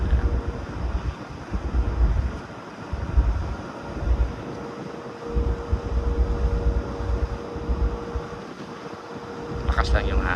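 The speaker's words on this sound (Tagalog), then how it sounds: "Lakas lang yung hangin." Strong wind buffets the microphone in gusty, uneven waves on the deck of a cruise ship sailing the Caribbean Sea, with a low steady rumble underneath and no clear speech.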